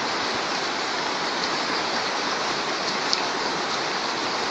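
Flowing river water near a mining prospecting site in the DR Congo makes a steady, loud broadband rush, constant and unbroken throughout with no voices.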